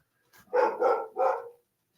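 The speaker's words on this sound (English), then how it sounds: "She's barking at her own self on the TV." A dog barks indoors at its own barking coming from a television, giving three quick, loud barks in close succession before going quiet.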